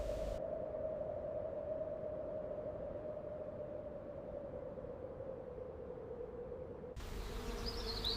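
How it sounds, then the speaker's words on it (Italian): A steady, droning buzz of a bee holds one sustained tone for several seconds, fairly close, with a brief change in the background near the end. "l'ape"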